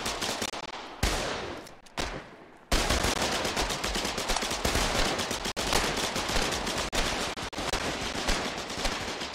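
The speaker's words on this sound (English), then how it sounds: "Oh, they got machine guns over there." Sustained automatic gunfire in a multiplayer online war game, dense rapid bursts running almost continuously and loud throughout, with a few short gaps near the start and no talking.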